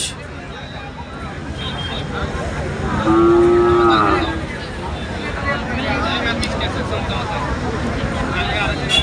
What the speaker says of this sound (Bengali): বিশাল সাইজের মহিষ।